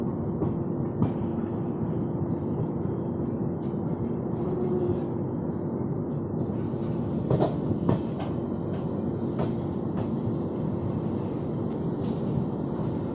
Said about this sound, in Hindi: तो गाइस अब हम अप्रोच कर रहे हैं इस ट्रेन के फर्स्ट हॉल दिल्ली कैंट की तरफ।